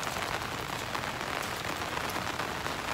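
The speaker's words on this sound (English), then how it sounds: "it's raining pretty bad" Heavy rain pouring down in a dense, continuous hiss and patter, close by and loud, with no talking.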